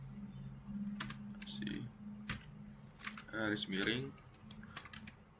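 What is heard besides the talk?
typing a command on a computer keyboard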